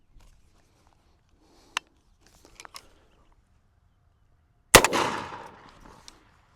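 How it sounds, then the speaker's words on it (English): A 12-gauge shotgun loaded with buckshot fires once at a prone target 30 yards away, a single loud sharp blast with a brief trailing rumble, preceded by a few faint handling clicks. "Let's take our first shot at the 30-yard mark at the prone target."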